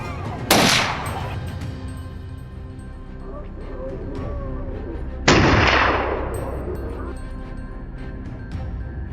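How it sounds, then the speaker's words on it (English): Two loud gunshots during a wild boar hunt, one near the start and another about five seconds later, each a sharp broadband crack followed by a long rolling echo, over a steady outdoor background. "Gunfire echoed from every side,"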